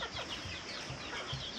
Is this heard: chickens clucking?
yes